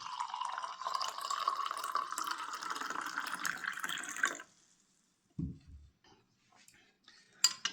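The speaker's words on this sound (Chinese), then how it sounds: "最后用温开水来冲泡" Warm water pours steadily into a cup holding a spoonful of aged vinegar, a close, gurgling stream lasting about four seconds before it stops, followed by quiet pauses and a few faint clinks.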